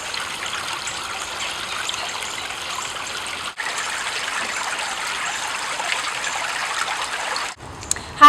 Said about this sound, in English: looking at this water. We can think about what kind of sounds is it making?